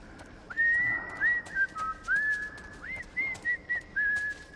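A video game character in The Last of Us: Left Behind whistles a wavering, halting tune in short phrases with gaps between notes, clear against faint background ambience.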